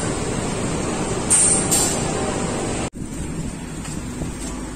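Steady rumbling roar of the Dhoho passenger train around Blitar station, a broad continuous wash of noise with a brief hiss partway through and a sudden dip before the rumble resumes.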